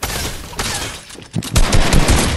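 Gunfire in the video game Fortnite: loud, dense rapid shots crackling in quick overlapping bursts, close and continuous without pause.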